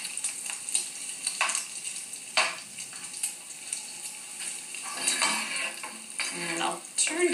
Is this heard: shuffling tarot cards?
no